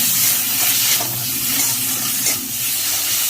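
Tomatoes frying in a pan with ground cumin, ginger and chilli paste, a steady close sizzle with faint stirring scrapes running through, no voices.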